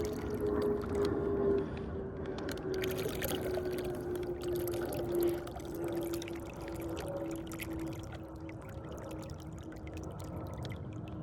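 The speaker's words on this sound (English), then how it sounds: "Well, that wasn't a slow pour, that was a fast pour." Water pours fast and continuously into a backyard pond for several seconds, a broad rushing splash with a faint tonal hum running underneath.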